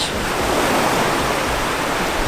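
Ocean waves breaking at an Australian beach make a steady, loud broadband wash of surf with no pauses and no voices.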